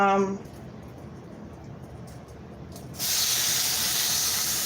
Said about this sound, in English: the first thing I'm gonna do is cook my bacon